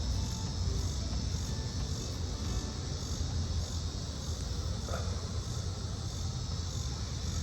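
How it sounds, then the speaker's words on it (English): A continuous, faint high-pitched buzzing drone of cicadas hums steadily in the background with no voices. "Can you hear it? The cicadas."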